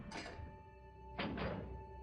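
Two quiet mechanical clunks of a lever being pulled down in Resident Evil HD Remaster, one near the start and a double thunk about a second later, over a faint steady electronic hum.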